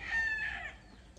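A young yellow-legged gamefowl rooster gives a short, close crow that lasts about a second and fades at the end, with no speech.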